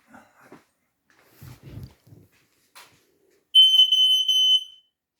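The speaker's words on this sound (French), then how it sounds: "Vous avez des détecteurs de fumée." A smoke detector lets out a short, shrill electronic beep for about a second after a few faint scattered sounds in a quiet room.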